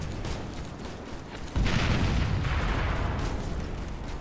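Artillery shelling in the video game Operation Flashpoint: Red River, a continuous low rumbling barrage that swells sharply partway through and stays loud, with dense booming bursts and no talk.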